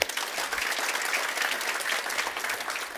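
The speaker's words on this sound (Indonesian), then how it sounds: "Kita beri tepuk tangan." A congregation during a church sermon gives a short burst of applause, a full, even wash of clapping that stays at a steady level for about three seconds.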